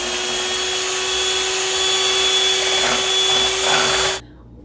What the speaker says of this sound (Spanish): Voy a batir la crema.